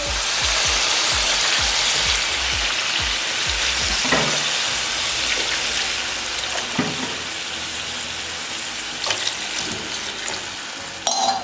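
Water poured into a hot pot of rice pulao with cardamom sets off loud, close sizzling and bubbling that gradually settles into a steady hiss with a few stirring knocks.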